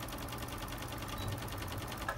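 A sewing machine stitches a short backstitch with a quiet, even rhythmic whir lasting a couple of seconds, with no voices.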